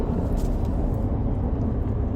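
Steady low road rumble inside a moving truck, a continuous even drone with no talking.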